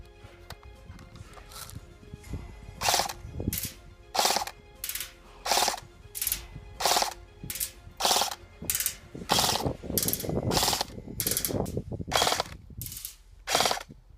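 ARES M60A4 airsoft machine gun firing outdoors at a target about 120 feet away, steady repeated bursts of sharp mechanical clatter with short gaps between them, loud and close.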